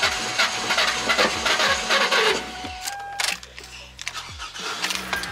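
An LS-swapped Ford Mustang engine cranks repeatedly, its starter whirring in uneven bursts with short pauses, loud and close, without catching.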